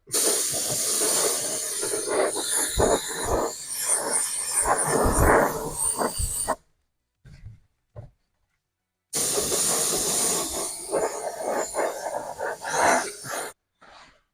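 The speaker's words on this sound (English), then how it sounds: "we'll throw a couple light coats on here and get it dried up" Spray paint hisses onto an RC pan car body being restored, as two long, close, steady bursts separated by a short pause with faint clicks.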